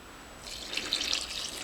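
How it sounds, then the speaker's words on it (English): Water poured onto a land cress plant in a greenhouse, a short soft splashing trickle that begins partway in and continues quietly to the end, with no talk. "I'll just give it a bit of water."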